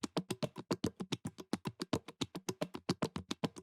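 A wide percussion loop of two parts panned left and right, with volume automation and offset timings, plays as a quick, even stream of short dry hits, about eight per second, close and alone.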